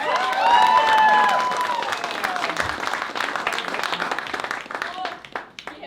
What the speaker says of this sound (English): round of applause for Braden Plum on the keys as